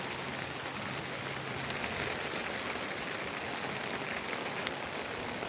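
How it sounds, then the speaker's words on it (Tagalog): Heavy rain pours steadily onto surfaces outdoors during a typhoon, a dense, even hiss with scattered drops standing out, near and constant with no voices. "Ang lakas ng ulan guys."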